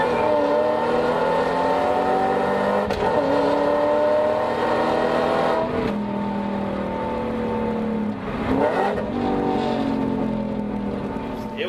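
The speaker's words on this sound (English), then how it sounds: "he sold his V8 BMW that we put in the audio clip" V8 BMW car engine revving repeatedly, each rev rising in pitch and then dropping back, loud and close, with a steady mechanical drone between the pulls and no one talking.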